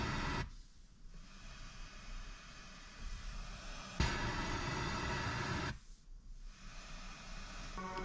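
FM radio static tuned to an empty 89.9 MHz frequency through a car stereo setup, a steady broadband hiss that stays fairly constant with brief dips and shifts, heard alone without talk.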